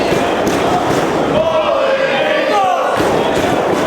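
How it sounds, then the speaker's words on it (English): A wrestling crowd cheers and chants in support of Christopher Daniels, a loud, dense roar that fills the whole arena and holds steady with rising shouts and calls throughout. "As the crowd voices their support for Christopher Daniels."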